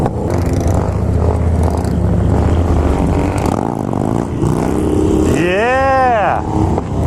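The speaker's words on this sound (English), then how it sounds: "doing the wheelies that slow, it doesn't feel like the bike is lugging" A Harley motorcycle fitted with a large 65-tooth rear sprocket rumbles low and steady during a slow wheelie, loud and close, with voices talking over the engine and a rising whine near the end.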